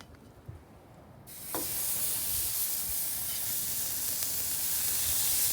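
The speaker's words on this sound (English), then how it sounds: "Oh man, hear the sizzle." Burgers sear on a Weber Traveler portable gas grill's cast iron griddle, a loud steady sizzle and hiss that bursts in as the patties hit the hot surface and keeps going, with a faint clank just before.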